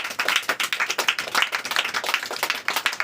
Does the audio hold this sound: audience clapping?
yes